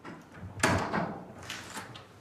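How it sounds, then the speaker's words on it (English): The front door of a flat is unlocked with a key and pushed open during a repossession visit, giving a short rattle and a sharp thud followed by lighter scraping, close and alone without talk. "The team are able to enter the flat with the front door key."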